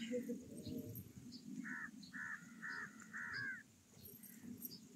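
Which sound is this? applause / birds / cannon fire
birds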